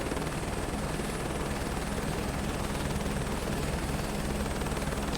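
Helicopter on a scenic flight over the Lahaul and Spiti loop, its rotor and engine drone steady and loud throughout, a dense continuous roar heard from inside the cabin.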